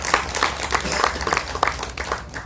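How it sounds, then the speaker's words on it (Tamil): An audience at a film press meet applauds with brisk, dense clapping from many hands, sustained and fairly loud throughout the short burst. "அவருக்கு ஒரு கை தட்டி பாராட்டு தெரிவிச்சுக்கலாம்"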